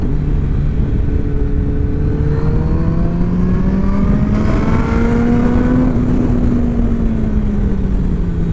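A Kawasaki Ninja ZX10-R 200 hp sport motorcycle engine accelerating on the road, its pitch rising steadily under heavy wind rumble, then easing off.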